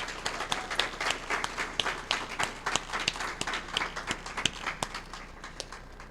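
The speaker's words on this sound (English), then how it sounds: "I'd like for us to give a round of applause to Crystal Archie, please." Applause at a graduation ceremony, a moderate crowd clapping in a loose, uneven patter with sharp individual claps standing out, steady for several seconds before tapering slightly.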